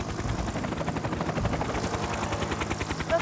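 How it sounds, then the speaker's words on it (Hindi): A helicopter in a Hindi Fireman Sam cartoon thuds steadily overhead, its rotor pulsing in a fast, even rhythm that stays loud and close throughout, with no talk over it. "आहा, टॉम थॉमस अपने हेलीकॉप्टर के साथ।"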